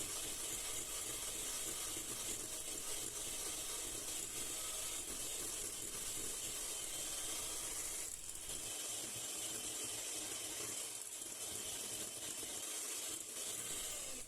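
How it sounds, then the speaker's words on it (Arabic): Steady mechanical whirr of an electric mixer whisking melted chocolate mixture into whipped cream for a Black Forest cake, running continuously and fairly close with brief dips in intensity. "ضفت نصف الكميه ونكمل نخفق."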